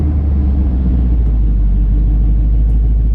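A car engine holds a loud, steady low rumble throughout. A couple of faint, sharp ticks sound over it, but no clear exhaust pops stand out.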